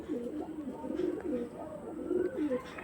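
Pigeons coo in soft, repeated low calls, close by and fairly quiet, with a few faint chirps in the background.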